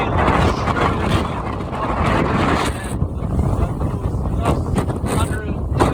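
Strong storm wind gusts roar across the microphone on the coast at Egmond aan Zee in the Netherlands during Storm Eunice, a loud continuous buffeting that briefly eases and surges again, with the ocean churning beneath and a voice speaking over it.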